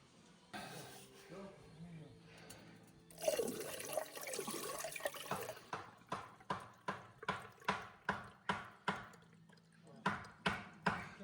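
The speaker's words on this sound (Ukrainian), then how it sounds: "Треба води налити в раковину." Water is poured into a homemade cement sink, first as a rushing splash, then as a run of regular slapping drips and trickles spaced roughly half a second apart, fairly quiet and close.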